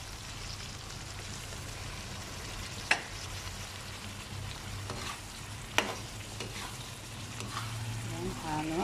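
Khamsa sitin simmering with coconut milk in a pan while being stirred, giving a continuous rain-like sizzle with a couple of sharp spoon clicks, close and steady.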